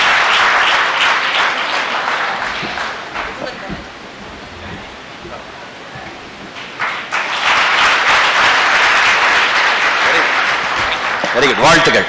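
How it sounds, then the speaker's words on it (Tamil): Loud audience applause at a stage event honouring the Chandrayaan-3 project director, swelling in two long bursts with a quieter lull between them, and a voice breaking in near the end. "வெரி குட், ஒரு பலத்த கைத்தட்டல்."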